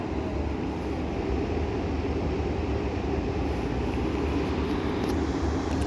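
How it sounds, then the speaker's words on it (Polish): A train rolls steadily through Zawiercie station in Poland, producing a loud, continuous rumble of wheels on rails with dense low-frequency noise and no speech. "a tam już jedzie kolejny pociąg"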